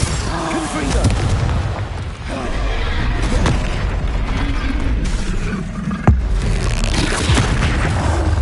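A Confringo blasting curse explodes in the Hogwarts Legacy video game amid a dense wash of booming spell impacts and battle noise, with a sharp loud burst standing out near the end.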